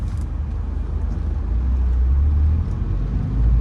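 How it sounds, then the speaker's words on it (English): Steady low rumble of cars rushing past on a city street in Northeast Philadelphia, close and continuous, swelling louder midway and toward the end with no voices. "we got cars flying right by me"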